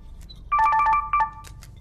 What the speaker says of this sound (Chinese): 接着电话。